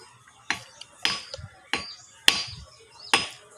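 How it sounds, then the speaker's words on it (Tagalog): A hammer strikes something hard in sharp, separate blows, about six sharp cracks at irregular intervals, close and loud with quiet gaps between. "Martilyo"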